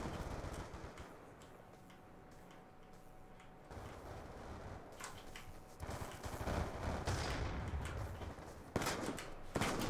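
Shotgun fire in Black Ops 2, a video game: gunshots popping in clusters at moderate volume over a busy background of game noise, building toward louder shots near the end.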